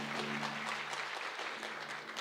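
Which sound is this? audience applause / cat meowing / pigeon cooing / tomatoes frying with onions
audience applause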